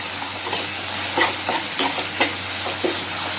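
Onions and tomatoes sauté in a pan for a masi dried fish gravy. A steady close sizzle runs throughout, broken by intermittent stirring scrapes, with no voices.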